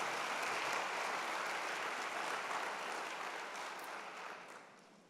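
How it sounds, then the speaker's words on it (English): Applause from an audience at a university convocation ceremony, a dense continuous clapping heard from a moderate distance that slowly fades toward the end, with no speech over it. "A big round of applause."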